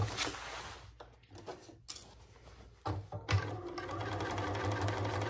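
A domestic sewing machine stitches through a hardware or tag case, its motor whirring in bursts with short pauses, then running steadily and close toward the end.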